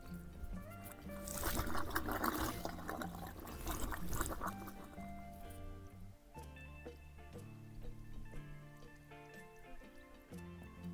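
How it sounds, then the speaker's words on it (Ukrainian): Liquid bubbles and gurgles at a burning oil and gas seep in the Gorgany mountains, a faint irregular trickling and popping heard close under steady background music, louder in the first half. "А тут навіть чути, як булькає."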